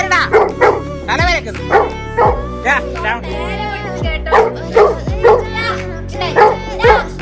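A hungry dog whines and yips in a rapid, repeated series of high cries close by, with a voice talking over the noise.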